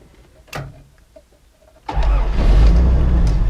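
Carbureted engine of a 1982 Toyota Land Cruiser FJ60 starting: a quiet mechanical click, a brief pause, then the engine catches and settles into a loud, deep, rough idle nearby.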